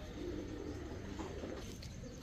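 Pigeons of tumbler, Pakistani teddy, Budapest and racer breeds coo softly and steadily in a loft, a low continuous murmur that is fairly faint, with no talk.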